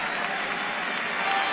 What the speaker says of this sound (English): And the fans stand and cheer.